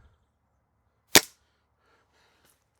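A single sharp shot from an LMBR R2A spring air rifle fired over a chronograph, one loud crack with a short decay, then near silence apart from faint rustling.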